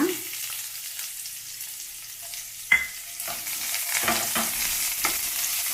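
Chana dal, urad dal and onion sizzle in hot oil in a pan, with steady frying crackle rising in intensity and occasional clacks of a stirring spoon against the pan.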